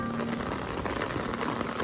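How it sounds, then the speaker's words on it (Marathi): Heavy rain pours steadily on surfaces during a monsoon village outing, a dense, loud, continuous hiss with no voices. "जोरात पाऊस आहे"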